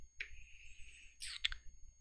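Computer mouse clicks, a short cluster of sharp taps close to the microphone in a quiet room, following a brief tone.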